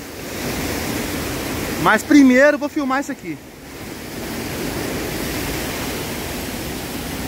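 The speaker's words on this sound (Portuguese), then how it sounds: "Vou lhe mostrar a visão da cachoeira pra vocês." A waterfall in a well-preserved forest habitat rushes as a steady broadband roar throughout, with someone speaking briefly over it partway through.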